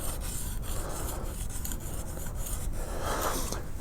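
A modified woodcarver's skew chisel edge being sharpened, with continuous quiet rasping strokes that rub back and forth close up and evenly, with no talking.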